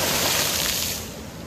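Sea waves surge at the Guánica boardwalk in Puerto Rico after a hurricane passed to the south, a loud broad rushing wash close by that eases and fades toward the end, with no talk.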